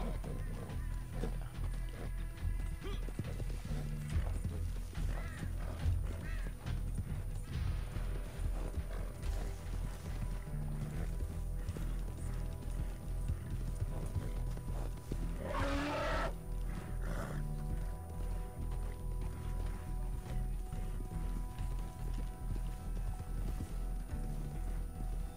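Steady hoof clip-clop of a horse in Red Dead Redemption 2, rhythmic and continuous under a dense layer of background music and effects, with a brief louder burst midway.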